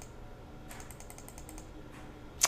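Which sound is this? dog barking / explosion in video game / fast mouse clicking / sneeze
fast mouse clicking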